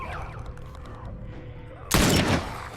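A loud burst of gunfire from The Last of Us erupts near the end, a dense broadband blast that rings out and fades after a stretch of quieter game ambience.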